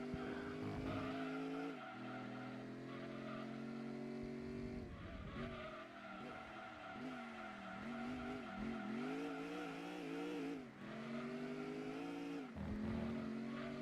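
Video game car engine voiced to imitate a big block V8, a thin, bass-light roar that revs up and down through gear changes with tire squeal mixed in, steady and continuous.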